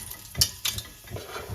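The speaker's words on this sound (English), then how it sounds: "you're going to start stir frying the mushrooms" Mushrooms stir-frying in a pan for a navy bean and kale soup, with a few brief sizzles and scraping stirs of a utensil against the pan, close and fairly quiet, no voices.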